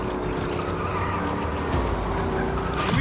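A car skidding to a stop in Marvel's Spider-Man 2, a loud sustained tire screech over engine roar, ending in a sharp squeal at the close.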